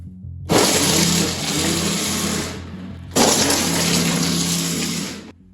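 A 2000W brushless MY1020 motor on a 60V Razor Ground Force drift kart gives two loud, sustained whirring bursts, each about two seconds, separated by a brief quiet gap, with no talking.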